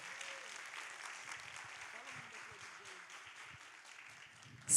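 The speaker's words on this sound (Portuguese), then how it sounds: "Aplaudam, minha gente" An audience at a festival panel in Recife applauds softly and steadily for several seconds, with faint voices underneath, before a sudden louder burst right at the end.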